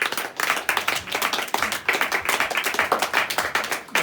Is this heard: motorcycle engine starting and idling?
no